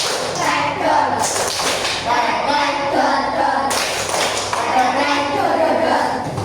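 A classroom of pupils claps a 1-2-3 rhythm pattern, with a few loud, sharp bursts of group clapping standing out over continuous talking and murmuring voices.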